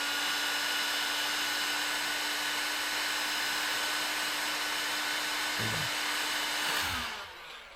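A heat gun blows a steady, loud whirring hum while shrinking heat shrink tubing on boat wiring, with a couple of brief knocks before it cuts off near the end.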